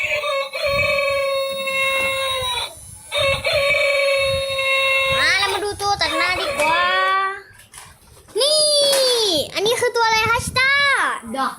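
A toy rooster switched on, crowing with repeated electronic cock-a-doodle-doo calls in loud bursts separated by short pauses, while a voice talks in between.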